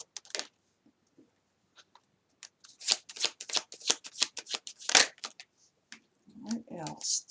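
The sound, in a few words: tarot cards being shuffled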